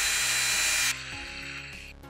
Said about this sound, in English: I'm going to drill a couple holes to get the wires in to connect to these terminals.